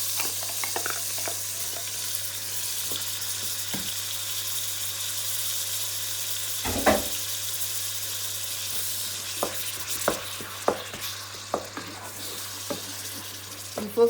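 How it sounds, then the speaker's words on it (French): Okra frying in tomato sauce for placali, a steady soft sizzle and hiss with scattered light clicks and pops, close by and fairly quiet throughout. "Il faut frire quelques minutes."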